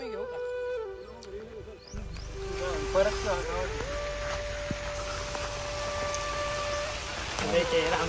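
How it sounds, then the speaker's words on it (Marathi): A dense, continuous roar of pouring rain sets in after a quiet opening, with people talking and some tonal sounds over it. "मुसळधार पाऊस आलेला आहे मुसळधार"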